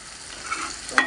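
Chopped ginger and garlic sizzle and crackle in hot oil in a pan, a short, steady frying hiss with a brief stir at the end.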